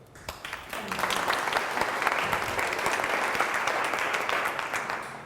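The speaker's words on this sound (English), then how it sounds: "Let's clap it up." An audience at a talk breaks into applause that swells within a second and holds as a dense, even wash of clapping, filling the room loudly until it starts to taper at the end.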